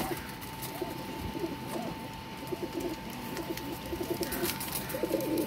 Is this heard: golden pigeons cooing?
yes